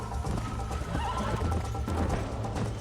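A horse gallops with steady clip-clop hooves in Red Dead Redemption, and a whinny rises partway through against a dense, constant background.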